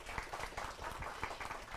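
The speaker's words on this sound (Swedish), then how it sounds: "En applåd." Audience applause at a political climate seminar in Almedalen, a brief stretch of steady, moderately quiet clapping from a seated crowd with no voices over it.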